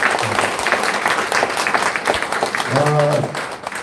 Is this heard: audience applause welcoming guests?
yes